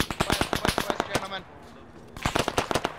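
Sustained automatic weapon fire in the Arma 3 military game, rapid loud cracks in two bursts separated by a short lull, with a voice talking over it.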